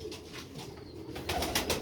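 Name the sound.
Silver Star grey Sialkoti pigeons cooing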